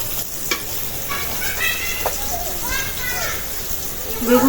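Slices of Indian eggplant (tal begun) fry in a pan with a constant hissing sizzle, close and moderately loud, while people talk and children are faintly audible.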